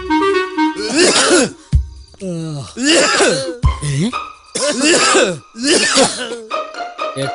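A man in a Malayalam action film scene coughs and clears his throat in several harsh, close bursts separated by brief pauses, with rough vocal groans mixed among them.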